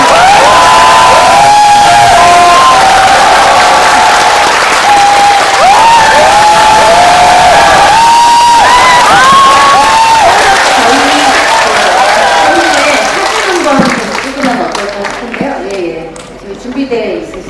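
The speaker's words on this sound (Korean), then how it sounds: "다시 한번 큰 박수" Audience at the closing film of the 26th Bucheon International Fantastic Film Festival applauding and cheering loudly and continuously for the film's director, music director and cast, with shouts over the clapping before it thins out near the end.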